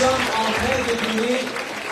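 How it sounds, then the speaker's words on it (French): A congregation at a church service in Madagascar claps together, a steady burst of applause under a voice speaking over it. "Applaudissons le Seigneur s'il vous plaît."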